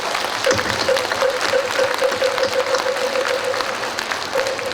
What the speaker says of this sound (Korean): 오래오래 사시도록 힘찬 박수를 한번 쳐드리도록